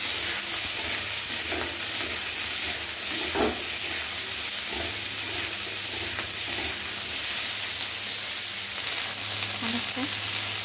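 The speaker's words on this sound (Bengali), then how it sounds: "আবার সবগুলো একসাথে মিশিয়ে একটু নাড়াচাড়া করে নেব।" Cauliflower and capsicum frying in a pan while being stirred, a constant loud sizzle with occasional scraping knocks of the spatula, close by and without speech.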